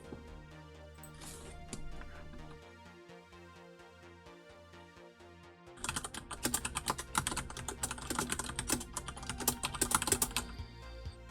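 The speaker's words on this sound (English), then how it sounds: "Oh wait, why am I typing?" Close keyboard typing runs throughout. Sparse keystrokes come first, then a dense, louder burst of rapid clicking takes over the second half.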